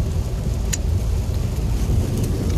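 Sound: car driving in the rain

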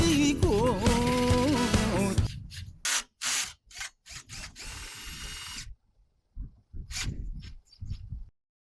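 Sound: cordless drill running

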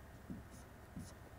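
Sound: drawing a diagram by hand

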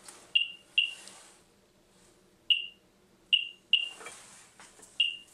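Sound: Geiger counter beeping

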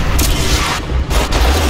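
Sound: gauss cannon firing in video game

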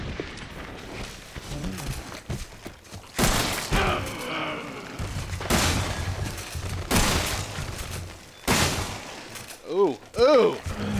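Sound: gunshots in the video game Resident Evil 7

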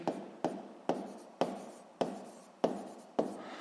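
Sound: writing an equation by hand

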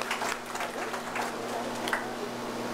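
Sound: audience applause

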